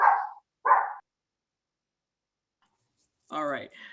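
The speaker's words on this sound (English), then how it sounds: "so I'm so sorry that his dog interrupted" A dog barks twice in quick sharp bursts in a home during an online meeting, then after a pause a person speaks briefly.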